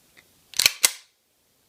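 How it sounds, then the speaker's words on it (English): A part of a Canik Shark C pistol clicks into position with two crisp metallic clicks in quick succession, close and alone against near silence. "Click that into position."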